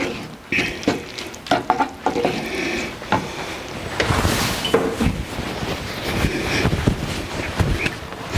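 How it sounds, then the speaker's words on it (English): Risotto being stirred in a pan as butter and Parmesan melt into it, giving soft scraping and wet, sticky clicks with a low sizzle over several seconds, close and moderately loud. "Give this a little bit of a stir around."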